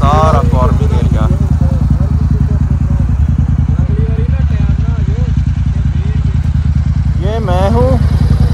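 A Royal Enfield motorcycle engine idles with a steady low thumping throb, loud and continuous throughout, while a voice talks over it and a brief rising whine appears near the end.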